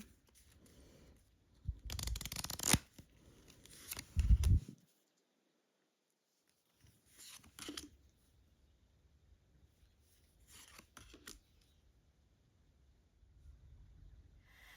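Linen-cardstock tarot cards are shuffled in two brisk riffling bursts, followed after a pause by softer, intermittent card shuffling and handling sounds, close up and without talk.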